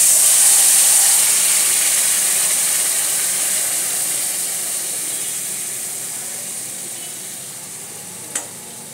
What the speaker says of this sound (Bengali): এবার আমি কড়াতে এটা ঢেলে দিচ্ছি।